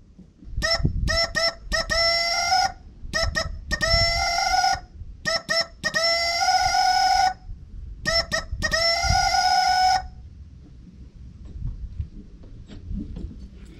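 A homemade chicken whistle blown in bursts mimics a clucking and crowing hen, with short groups of shrill harmonic toots separated by pauses, loud and close over low outdoor rumble, then quiet after the last burst.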